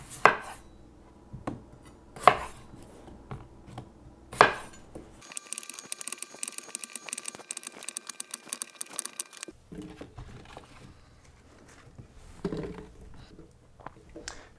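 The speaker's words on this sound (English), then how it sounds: "Now you're gonna chop them into fourths and then toss them in the pot." Red potatoes are cut into fourths on a cutting board, giving sharp knife knocks at irregular intervals, with a stretch of clattering and rustling in the middle and faint talk at moments.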